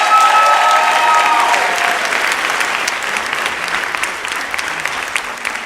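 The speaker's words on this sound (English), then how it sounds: "Can I get a round of applause for them," A commencement crowd applauds for the speaker's parents, sustained, even clapping from many hands that continues throughout, slowly easing in intensity.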